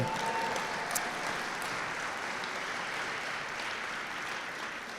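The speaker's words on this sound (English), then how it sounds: "So you can clap for that, sure." An audience applauds at a San Francisco First Day of Issue ceremony for the Year of the Rabbit commemorative stamp, a dense, steady clapping that holds for several seconds and eases slightly at the end, with no talk.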